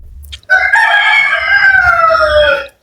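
A rooster crows once, loud and close, a long drawn-out call lasting about two seconds with no talk over it.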